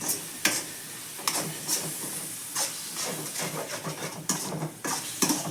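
Onions sautéing in a pan while a spoon keeps stirring them, a continuous hiss and sizzle broken by repeated scraping strokes and clanks of the spoon, near and without talk.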